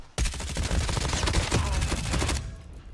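Rapid automatic AK117 gunfire from COD Mobile, a loud continuous burst of evenly spaced shots lasting over two seconds, then cutting off into quiet background.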